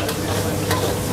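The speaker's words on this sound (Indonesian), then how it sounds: "ini kita tumis, nanti dia bakal ngeluarin minyak sendiri ya, atau lemak dari daging sapinya" Short plate beef stir-fries in a pan for a Chinese-restaurant-style soy sauce dish, releasing its own fat, with a steady, close hiss of sizzling and a brief scrape of stirring.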